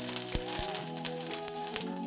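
Kochur loti paturi, taro-stolon parcels, frying in a pan over low gas, giving a steady soft sizzle with faint crackles and occasional light clicks throughout.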